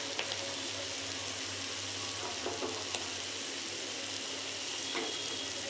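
Masala sizzles in a pan just after cumin powder is added, a steady dense frying hiss with a few faint stirring clicks and scrapes, no talking.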